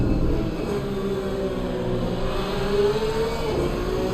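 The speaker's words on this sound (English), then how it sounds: "Listen to that Porsche engine." A Porsche GT3 race car in Assetto Corsa Competizione, its engine droning loud and steady on board, with the pitch climbing gradually as it revs through a gear and easing slightly near the end.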